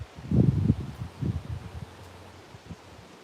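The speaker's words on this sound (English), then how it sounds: "The wind increased out here. It's more breezy." Outdoor wind gusts buffet the microphone in low rumbling bursts, strongest at first and then easing to a softer breezy hiss.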